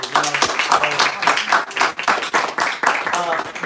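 A short burst of clapping from a small group, mixed with voices talking over it.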